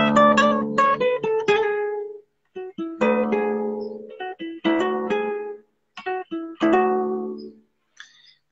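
Bright plucked tones, probably guitar, play phrases built on the tritone note of the Lydian mode, a few clustered notes followed by a sustained ringing pitch, repeated in several clear, close phrases with pauses between them.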